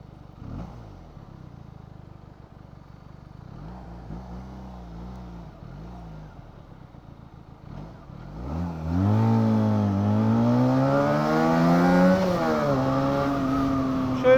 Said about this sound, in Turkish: anlık gaz açmalarında daha da hızlı, daha da torklu bir şekilde hızlanabiliyorsunuz